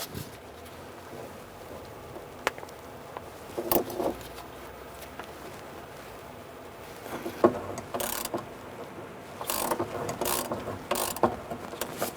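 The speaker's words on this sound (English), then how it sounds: "We can use a pair of locking pliers on the top and our 15mm gear wrench on the nut on the top there." A 15mm gear wrench ratchets on the top nut of a rear shock absorber on a 1994-2004 Ford Mustang, giving close, quick clicking runs in intermittent bursts with quieter handling noise between them.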